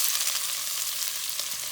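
Chopped onion, carrots and garlic fry in pork fat in a pan, giving a soft, even sizzle with faint crackles throughout, close but fairly quiet.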